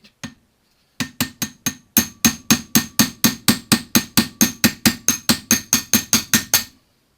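Hammer striking a punch on a Honda CB500 carburetor, two early taps and then a long run of about twenty evenly spaced, sharp metallic blows, close and loud.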